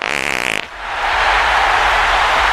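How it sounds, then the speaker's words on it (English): A long, loud, raspy fart from a character in the WWE 2K wrestling game rips out after a brief tonal buzz and sustains steadily to the end, with nobody talking over it. "Oh my god, did he just fart?"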